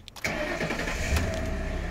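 A car engine cranks and catches, then settles into a steady close idle with a slight rev.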